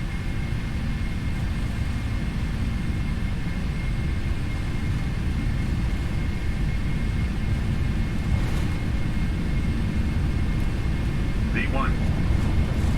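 Boeing 747-400 on its takeoff roll in the PMDG flight simulator: a loud, steady engine roar and rumble holds for the whole stretch without letup.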